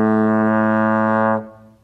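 A single sustained trombone note played in second slide position, a full brassy tone held steadily for over a second before stopping, with a brief room echo afterward and no voices.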